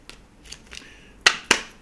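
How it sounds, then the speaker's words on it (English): Tarot cards being shuffled and handled: a few soft rustles, then two sharp, crisp snaps of the deck close together near the end, alone in a quiet room. "Let's give it a shuffle here."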